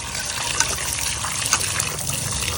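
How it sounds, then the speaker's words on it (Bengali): Tap water on a rooftop gushing steadily while fish are washed under it, a loud continuous splashing rush with a few brief spikes, no talk. "মাছগুলো ধুয়ে দিচ্ছি সুন্দর করে একদম ছাদের মধ্যে কলে।"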